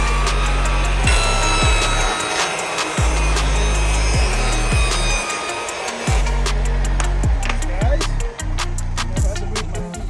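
A saw whines steadily as it rips wood boards for window trim, with repeated cuts and brief pauses between passes, loud and close.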